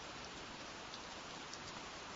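Steady rain sound effect in a fantasy tabletop game setting, a dense, even hiss of falling rain with faint scattered drops, continuous and quiet throughout with no voices.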